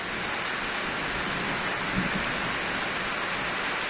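Steady rain pours down outdoors after a sudden downpour, a dense even hiss of drops with no thunder, continuous and fairly loud throughout.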